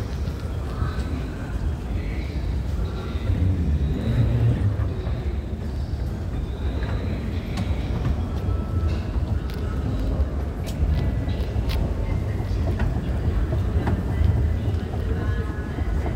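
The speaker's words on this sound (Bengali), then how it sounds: "আজ আমরা ট্রেনে করে ভিয়েনাতে যাচ্ছি" A passenger train travels from Prague to Vienna on a rainy day, with a continuous loud low rumble and rattling heard from inside the carriage the whole time.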